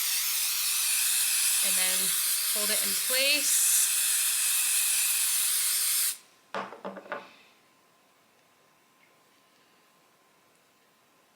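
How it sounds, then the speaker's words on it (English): An adhesive spray can hisses in one steady, loud burst for about six seconds while fabric is prepared for machine-embroidery applique. A voice speaks over the spray, then short rustles and handling sounds follow before near silence. "But I'm gonna use my adhesive spray"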